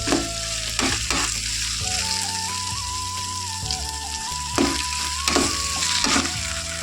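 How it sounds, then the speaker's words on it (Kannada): Cooked rice stirred into sizzling masala for chitranna, a steady frying hiss throughout with scraping spoon strokes near the start and again toward the end, alone without talk. "ಇವಾಗ ಅನ್ನ ಸೇರಿಸ್ಕೊತಾ ಇದ್ದೀನಿ."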